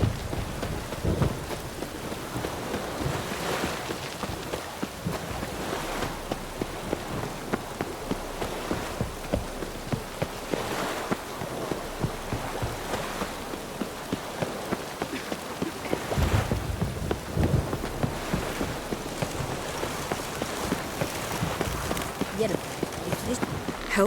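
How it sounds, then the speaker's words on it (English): Steady rain in The Witcher 3: Wild Hunt hisses throughout with occasional low rumbles like thunder, and voices speak intermittently over the downpour. "Witches have conjured rain again."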